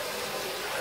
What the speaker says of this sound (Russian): Давай, наверное, душ включим.